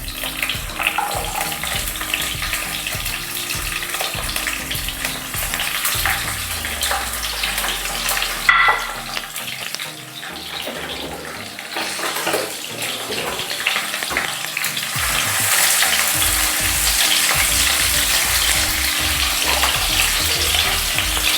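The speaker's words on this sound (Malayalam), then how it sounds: "അങ്ങനെ ഉള്ളി ഇതാ മൂത്ത് വരുന്നു." Onions, ginger and garlic fry in oil for a homemade beef dish, giving a steady close sizzle with faint stirring and some watery splashes. No one speaks.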